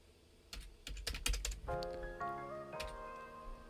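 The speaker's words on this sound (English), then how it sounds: "we type company." Keystrokes on a computer keyboard during coding in React, a quick run of clicks that rises in loudness, followed by a sustained tonal hum with shifting pitches under the typing.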